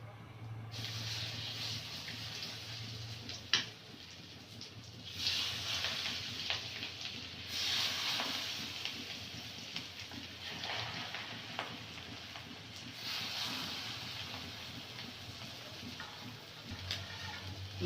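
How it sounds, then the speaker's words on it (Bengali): Small shrimp fritters sizzle in hot oil in a wok in a village kitchen, a steady hiss that runs throughout with a few sharp ticks and clatters. "তেলটা গরম হয়ে গেছে, কড়াইটা বসিয়ে দিয়েছি। এবারে বড়াগুলো ভেজে নেব।"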